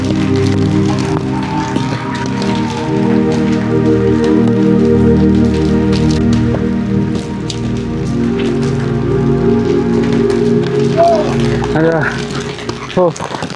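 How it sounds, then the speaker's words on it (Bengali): Heavy storm rain pours down on a mountain trek up Parasnath hill in Jharkhand, a loud, dense drumming spatter throughout, with voices faintly present beneath it. "খুব জোরে বৃষ্টি হচ্ছে, মানে কি বলবো, ঝড় জল বৃষ্টি সব কিছুই"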